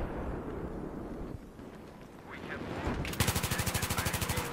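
Automatic gunfire in Battlefield 3, a rapid even burst of about a dozen loud close shots that comes in after a stretch of low rumbling game noise.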